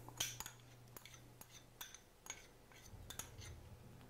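A spoon clinks and scrapes against a bowl while pesto is spooned in, giving a string of light metallic taps and scrapes spread over a few seconds, fairly faint and with no voices.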